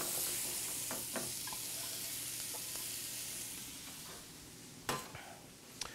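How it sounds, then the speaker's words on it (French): Butter melts in a pan and squash is added, giving a soft steady sizzle and hiss with a few light knocks and one sharper clatter near the end. "mon beurre est en train de fondre. On incorpore la courge."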